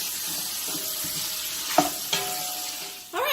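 Meat browning in salt pork fat in a pan for an Italian pasta sauce, a steady close sizzle and frying hiss broken by a few sharp stirring scrapes and clinks.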